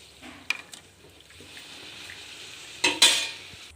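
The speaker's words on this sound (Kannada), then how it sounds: "ಎಣ್ಣೆ ಕಾಯ್ದೈತೆ, ಪೂರಿ ಹಾಕ್ಕೊತಾ ಇದ್ದೀನಿ." Puri going into hot oil: a faint background hiss with a clink, then a brief louder burst of sizzling near the end, close by.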